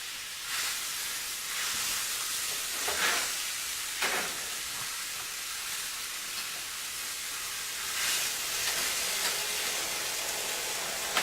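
Pork loin chops searing in a pan give a continuous steady sizzle and hiss at moderate level, with a few brief louder crackles and spits.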